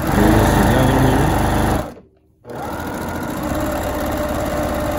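A sewing machine stitching a quarter-inch seam on a butterfly kaleidoscope quilt top, a loud steady mechanical whir that stops briefly for a moment of near silence before running again.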